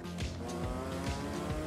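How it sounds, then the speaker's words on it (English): A 2024 Porsche 911 GT3 Touring engine idles close by with a steady, slightly rattling chunter and a repeating low pulse, alone without speech. "The engine chunters and rattles slightly at idle."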